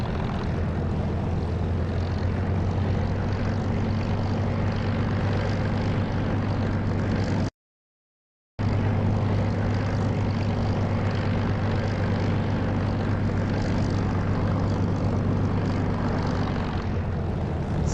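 Propeller aircraft engine roaring steadily during takeoff in the DCS flight simulator game, loud and continuous with a brief dropout midway.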